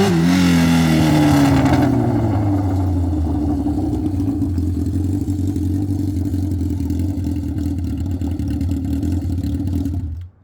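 A junkyard Honda CB750F motorcycle engine fitted with an $8 exhaust rumbles loud and close, revving briefly at first, then settling into a steady, throaty run for about ten seconds before cutting out abruptly.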